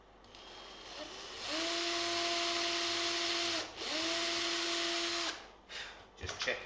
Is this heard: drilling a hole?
yes